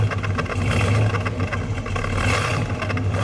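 The 454 V8 engine of a 1970 Chevrolet Chevelle SS convertible revs up with a heavy, throaty roar that swells and eases, loud and close, with no one speaking.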